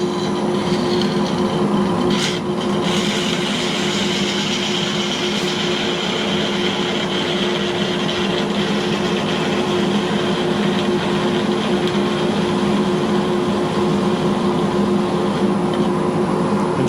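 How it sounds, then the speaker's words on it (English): A belt sander grinds the wooden head of a gavel mallet in a steady, loud, unbroken whir that runs the whole time, with a couple of brief scraping catches early on and no talking. "This is a belt sander."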